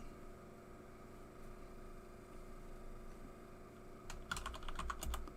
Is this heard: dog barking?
no